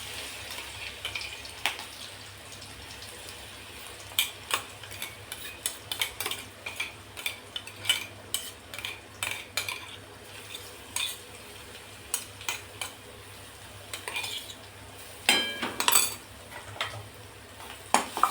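Ground garlic and green chili sautéing in hot oil, a low sizzle beneath frequent quick clinks and scrapes of a metal spoon against the pan, close and busy, with no talking.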